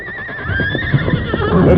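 A horse gives a loud, close whinny with a wavering high pitch, lasting under two seconds, with rustling movement underneath, in an old radio drama.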